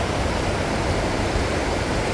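The Capilano River running high and fast after a night of rain, a loud, steady rushing roar of water heard up close with no voices over it.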